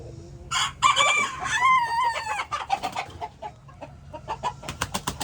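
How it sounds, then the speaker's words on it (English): Chickens fighting, with loud clucking, squawks and a rooster's crow close by, followed by a quicker run of sharp, choppy clucks; a faint voice sits low beneath the birds. "Chickens fighting."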